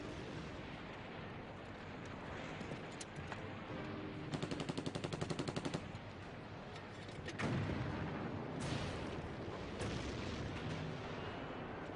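Heavy tank gunfire and artillery roar through a Korean War battle, a dense continuous barrage with a rapid rattling burst of machine-gun-like fire and repeated booming blasts throughout.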